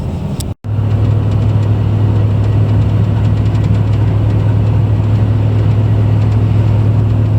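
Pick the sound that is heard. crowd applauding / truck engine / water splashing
truck engine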